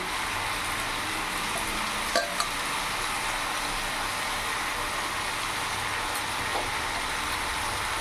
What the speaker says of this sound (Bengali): এবার এর মধ্যে কেটে ধুয়ে রাখা পুঁই শাকের পাতাগুলো দিয়ে দেবো।